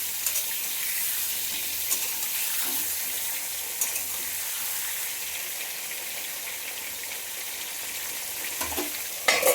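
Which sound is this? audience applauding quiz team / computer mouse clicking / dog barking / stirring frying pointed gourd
stirring frying pointed gourd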